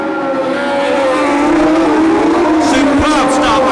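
Formula 1 cars from the 1976 US Grand Prix West accelerate away from the start on a street circuit, their high engine wails rising and overlapping, loud and close, under a commentator's excited voice.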